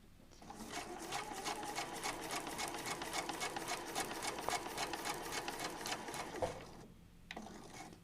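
A sewing machine stitches fabric triangle pieces in one fast, rhythmic run of needle clatter for several seconds, close and loud, then stops briefly before a short final burst.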